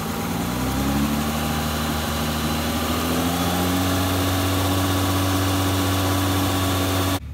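Car engine idling at about 2,000 RPM while air is bled from the cooling system with a spill-free radiator funnel; a steady, close, loud hum with stable droning tones throughout, cutting off at the very end.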